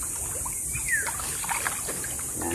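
Soft water lapping and trickling nearby while fish are being called, with faint gentle splashes and a few quiet chirps in the background, no talking.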